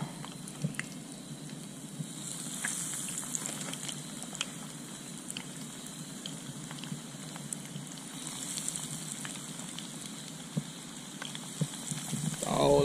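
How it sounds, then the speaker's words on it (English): Faint, steady crackle of crappie fish frying in a pan, a soft continuous sizzle with scattered pops heard at a low level throughout. "It's starting to sizzle good now."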